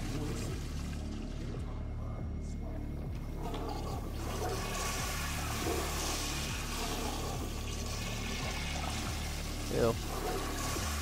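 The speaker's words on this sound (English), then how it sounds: "go flush the other toilet" A toilet flushes inside the DOOM video game, a faint steady rush of pouring and trickling water running under game noise for several seconds.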